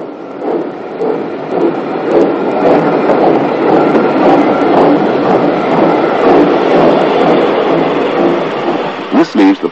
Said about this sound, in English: A second T9, also allocated to Okehampton, draws number 30715's train out of the station in the direction it's come from